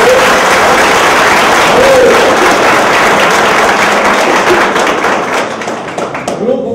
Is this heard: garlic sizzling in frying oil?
no